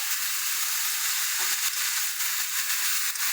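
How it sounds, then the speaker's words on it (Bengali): Greens and mixed vegetables stirred and frying in a pan, a loud, dense sizzle throughout with occasional scraping stir noises and no speech. "ভালো করে সমস্ত সবজির সাথে শাকটাকে মিশিয়ে নেবো"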